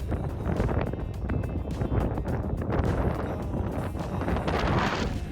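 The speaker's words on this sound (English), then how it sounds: "it's just too windy on the street" Strong wind roars and buffets the microphone continuously on a street, a loud broadband rush that swells and gusts throughout.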